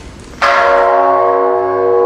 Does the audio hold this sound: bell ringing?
yes